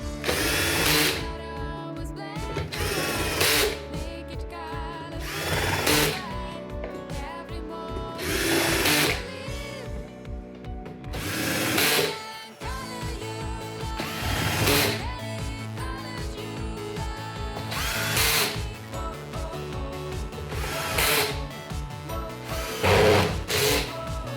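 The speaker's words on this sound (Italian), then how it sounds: "vi ricordo di utilizzare l'avvitatore quando state riavvitando queste viti" A cordless drill-driver set to screwdriver mode with low clutch drives screws back into a Folletto vacuum cleaner, in repeated short whirring bursts with ratcheting clicks and pauses between them, close up and without talk.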